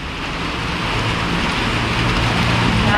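Heavy rain pours down at a laab restaurant in Thailand, a dense, steady hiss that fills the whole stretch without any voices.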